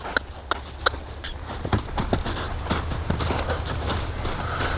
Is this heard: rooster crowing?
no